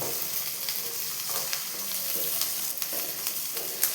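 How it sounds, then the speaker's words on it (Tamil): Small shallots sautéing in a pan for a garlic gravy, a constant soft sizzle with occasional stirring scrapes, close and fairly quiet, with no voices. "சின்ன வெங்காயம் நல்லா வதக்கிங்க"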